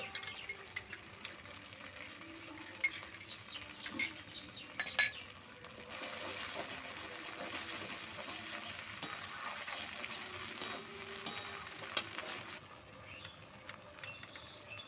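Spice paste with mustard paste sizzles in a pan for a fish curry with potato and eggplant, a quiet frying hiss that swells midway, with occasional spoon clinks and stirring against the pan.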